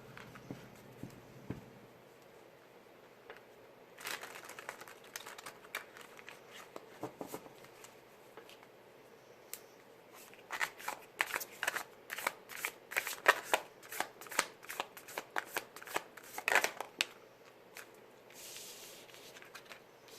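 Tarot cards are shuffled close by in a quiet room, with soft scattered riffles early on, then a dense run of quick, crisp slapping shuffles in the middle that taper off toward the end.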